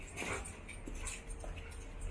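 A dog makes soft whimpering sounds close by in a quiet room, a faint, brief noise over low background hiss.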